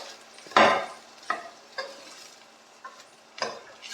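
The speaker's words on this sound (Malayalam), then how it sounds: "നല്ലോണം ഒരു സ്പൂണ് കാശ്മീരി ചില്ലിയാണേ നമ്മൾ ഇട്ടിട്ട് നന്നായിട്ട് വഴറ്റിയെടുക്കുക." Turmeric and Kashmiri chili powder are sautéed in a pan, heard as a spoon scraping and knocking in separate strokes every half second or so over a faint low sizzle.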